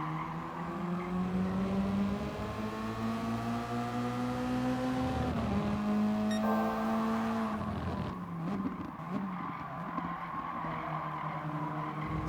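A Toyota S-FR Racing Concept in Gran Turismo races at Tsukuba, its engine note climbing through rising revs, dropping at gear changes, with brief tire squeal mid-lap, steady and close with no voices.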